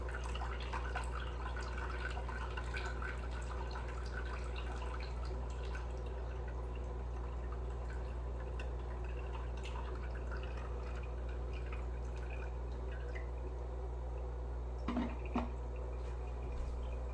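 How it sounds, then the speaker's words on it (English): Water carrying brine shrimp pours steadily from an opened valve on a hatching setup, a continuous trickling drip with a few louder splashes near the end and no talking. "I open the valve and it pours out all sorts of brine shrimp"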